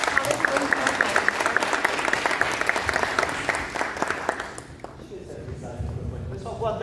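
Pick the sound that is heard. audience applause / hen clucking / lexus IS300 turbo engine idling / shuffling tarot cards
audience applause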